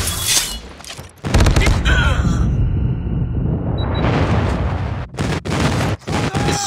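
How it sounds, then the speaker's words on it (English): Booming explosions and dense gunfire from a friendly airstrike in a Call of Duty multiplayer match on the Standoff map, with a sustained loud rumble and sharp blasts close by. "Friendly airstrike incoming."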